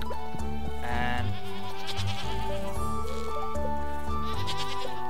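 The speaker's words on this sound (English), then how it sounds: "Deal with all the goats in here." Goats bleating inside a barn in the farming game Stardew Valley, repeated cries layered over continuous upbeat background music that stays loud throughout.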